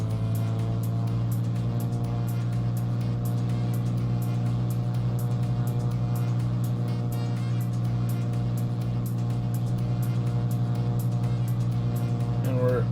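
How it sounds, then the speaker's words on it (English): Single-engine propeller aircraft at full throttle for takeoff in Microsoft Flight Simulator, a loud steady engine drone with rhythmic propeller pulsing that holds constant and swells slightly at the end. "Slowly advance the throttle for departure."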